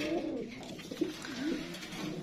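Black lakka (fantail) pigeons coo in repeated soft, throaty rolls, close by and fairly quiet, with a steady low background hum throughout.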